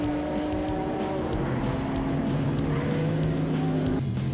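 Race cars roar past at turn 1 during the 12 Hours of Sebring, a steady engine drone heard from the trackside, with rising and falling tones as cars pass at a moderate distance.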